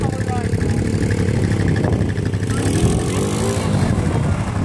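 A vehicle engine runs steadily and loudly up close while Nacho drives around a farm on a family day out, a constant mid-pitched drone with people talking over it.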